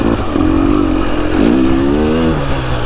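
A 2023 KTM 250 XCW dirt bike engine revs loudly and steadily up close, its pitch climbing and settling across a few seconds with no talking.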